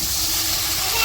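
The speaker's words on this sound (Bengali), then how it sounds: "আগে বেগুনগুলা দিয়ে দিল বেগুনগুলা কষিয়ে পরে মাছ দিব" Eggplant pieces frying with chili powder, turmeric, ginger-garlic paste and salt in a pan, giving a steady, close hiss and sizzle throughout.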